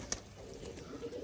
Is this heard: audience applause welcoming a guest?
no